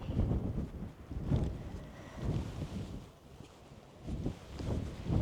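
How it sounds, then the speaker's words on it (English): Strong wind on a mountain top buffets the microphone in rolling gusts, a low roaring rumble that swells and eases, with no voices. "It's pretty windy up here"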